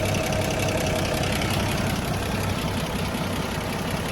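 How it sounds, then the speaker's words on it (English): A 1979 Toyota Land Cruiser FJ40 with its 2F engine idles at the single rear exhaust, a steady, loud, even low rumble with a knocking pulse throughout and no voices. "listen to the engine at idle"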